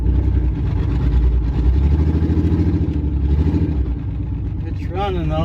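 An engine runs steadily at idle in a Chevrolet Blazer after an engine swap, a close, continuous rumble with a clattery pulse and some background noise.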